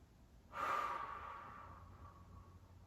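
A slow, deep breath during a yoga strap stretch with the hips opening, rising as a single soft, close airy exhale that swells and then fades gradually, alone in a quiet room.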